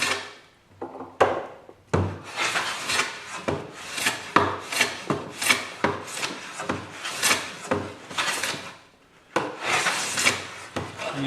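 A finely set jack plane shaves along a wood edge in a steady series of close, rasping strokes, each a brief swish repeated roughly every half second, with short gaps between passes.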